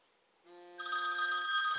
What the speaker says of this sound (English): phone that, just to prove it's ringing